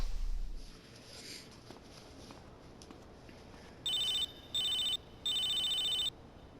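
A phone rings in GTA San Andreas as Woozy calls Carl: three electronic ringing bursts, the last one longer, clear and fairly loud over a quiet background.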